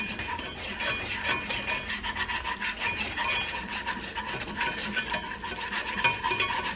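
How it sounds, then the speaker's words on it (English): A whisk scrapes and stirs continuously through flour cooking in sausage grease in a pan, a steady close rasping rhythm with faint sizzle underneath and no talking. "you're just going to use a whisk, and you just cook that flour into that grease"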